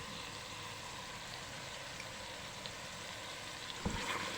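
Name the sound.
meat frying in spices for gosht tahari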